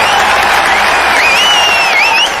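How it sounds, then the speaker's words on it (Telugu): A crowd claps and cheers during a rousing speech about ending farmers' suicides in a Telugu action film, a loud continuous roar of applause with a high whistle cutting through near the end. "మళ్ళీ చప్పట్లు."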